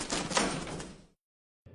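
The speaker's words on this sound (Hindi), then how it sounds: "रघु जब अमरूद खाने लगता है तो पिंजरे का दरवाजा बंद हो जाता है" A cage door in a cartoon slides and shuts with a single loud, close clatter that lasts about a second, then cuts off into silence before a brief faint sound at the end.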